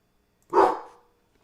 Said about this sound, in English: Dang old dogs.